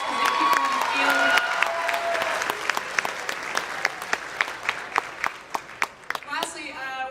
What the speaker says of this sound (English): Let's give them a round of applause because they keep on the field.